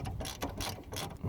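A ratchet fitted with an extension bar works a brake caliper bolt loose on a Ford Fiesta Mk6, giving a short burst of quiet, rapid clicking pawl sounds close by.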